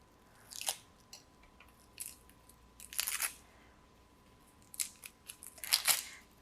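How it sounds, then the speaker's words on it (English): Knife chopping an onion in separate bursts of crisp crunchy cuts, close and moderately loud, with quiet gaps between strokes and no talking. "I'm gonna go ahead and chop our onion"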